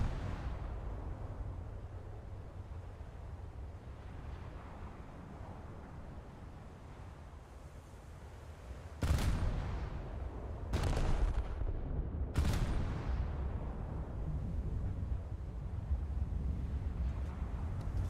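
Big naval guns fire in the video game World of Warships, aboard the battleship HMS Hood: three loud, booming salvos land several seconds apart over a constant low rumble of battle noise.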